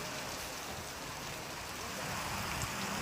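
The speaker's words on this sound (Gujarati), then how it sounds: "ભારે પવન અને ગાજવીજ સાથે ધોધમાર વરસાદ વરસ્યો" Heavy rain pours down during a storm with strong wind over villages in the Vadodara area of Gujarat, a dense, steady rushing hiss that stays loud and unbroken throughout, with no voices.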